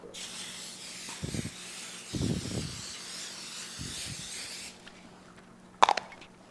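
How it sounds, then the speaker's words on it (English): Cooking spray hisses steadily onto a metal pan for a few seconds, close and fairly quiet, broken by a few dull low bumps, then a sharp clatter near the end. "we're just going to coat our pan with a little bit of cooking spray"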